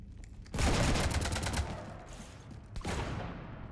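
Rapid automatic gunfire from the Mass Effect Legendary Edition game strafes a ship: a loud, sustained volley of rattling shots, a brief lull, then a second burst of fire near the end.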